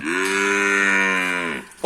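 Native northern Thai cattle at a livestock market in Nan, one animal letting out a single long, loud, close moo that holds steady for nearly two seconds before fading.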